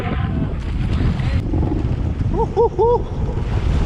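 Strong wind roars across the microphone at sea off Indonesia, steady and blustery, with a few brief high chirps near the end.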